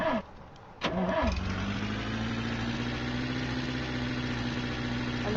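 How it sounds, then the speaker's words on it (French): A car engine in the driving game The Long Drive cranks briefly with a couple of whirring starter pulses, then catches and settles into a steady, low idle hum that runs on evenly, close and alone with no voices. "je dois rallumer mon moteur dans pas très longtemps"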